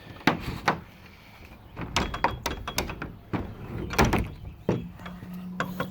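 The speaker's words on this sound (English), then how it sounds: "I found that the doors don't really close that well." Plastic doors on a Suncast 7x7 shed are pushed and knocked shut in a series of loud, close thuds and rattling bumps, spaced irregularly over several seconds.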